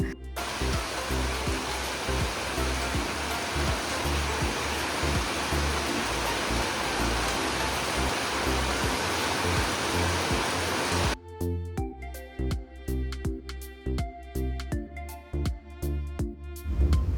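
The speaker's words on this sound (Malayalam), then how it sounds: "ഇപ്പോൾ നല്ല കനത്ത മഴയാണ്" Heavy rain pours at night with a dense, steady hiss and roar for most of the clip, then gives way abruptly to choppier, rhythmic sounds near the end.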